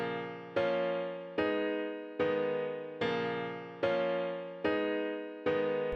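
Sustained piano chords from a compressed mono studio grand preset in Addictive Keys, struck roughly every 0.8 seconds in a steady repeating pattern, each chord ringing and decaying before the next, loud and close with no voices.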